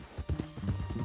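Hooves of a horse clip-clopping in the Red Dead Redemption 2 video game, a short run of quick, soft, fairly faint hoof beats.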